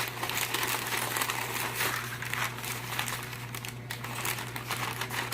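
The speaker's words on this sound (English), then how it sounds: "We'll take our dough and put it in the parchment paper, shape it into a loaf" Bread dough folded and shaped inside parchment paper, loud continuous crinkling and crumpling of the paper close up, with a steady low hum underneath.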